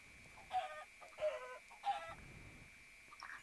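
Three evenly spaced Minecraft chicken clucks ring out, thin and a little synthetic, over a quiet steady tone, with a softer cluck near the end.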